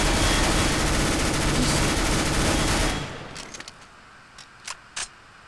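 Rapid gunfire in Counter-Strike: Global Offensive, a loud sustained volley of shots for about three seconds that cuts off, followed by a few scattered single distant shots.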